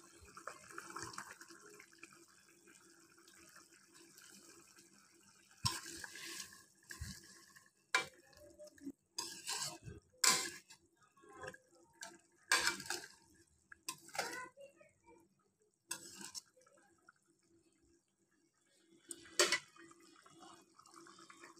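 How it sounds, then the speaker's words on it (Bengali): Potato and egg curry gravy bubbling in a pot, heard as irregular close sputters and splashy pops that come in clusters over a quiet kitchen background. "দেখেন ঝোলটা খুব সুন্দর ফুটে উঠেছে।"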